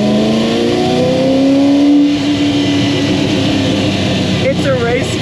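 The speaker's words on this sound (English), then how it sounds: "It's a race car. It's such a race car." A 1968 Ford GT40 Mk1 race car engine drones loudly and steadily, its pitch climbing as it revs up, then shifting sharply near the end as gears change.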